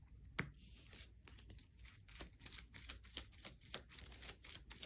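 Quiet riffling and soft slaps of playing cards being shuffled, a few short bursts close by with no talking.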